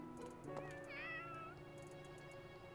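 A cat meows in Fire Emblem Three Houses: a short, rising-and-falling mew in the middle, set over a steady game music background with light chimes, and no talking.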